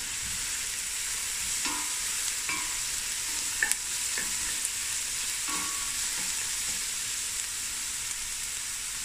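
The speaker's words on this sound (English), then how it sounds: "Give that another stir." Onions with crushed chili fry in a pot for a three-greens stew, a steady bright sizzle with a few light scrapes and clinks from stirring scattered through, and no one talking.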